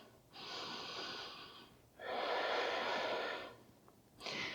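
Slow, audible breaths, a long inhale and a long exhale taken close up through the nose, during a twisted pose in a yoga class, with no talk over them.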